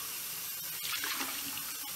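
Tap water running steadily into a sink during handwashing, a continuous close hiss and splash at low volume with a slight swell partway through, no voices.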